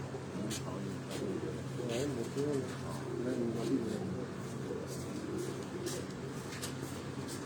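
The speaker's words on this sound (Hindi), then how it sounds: "ये 200 एक मोतियों वाला कबूतर है।" Pigeons of a pearl-marked breed coo softly at close range on a rooftop loft, with low burbling calls repeating under a background hum, while someone talks nearby.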